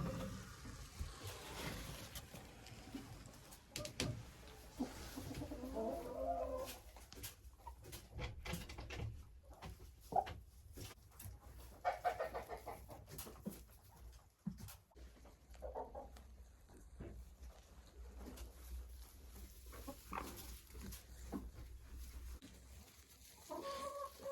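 Hens in a chicken coop, scattered soft clucks and pecking taps with rustling and scratching in bursts, close by, no talk.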